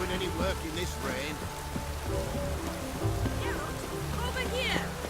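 Rain falls steadily in the video game The Witcher 3, a constant wash of patter on surfaces, while people talk and birdlike chirps sound faintly over it.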